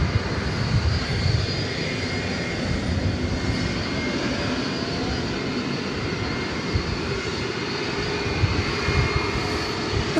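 A Boeing 757 airliner at DFW Airport roars steadily with loud, continuous engine rumble and broadband jet noise, holding near and constant without pauses.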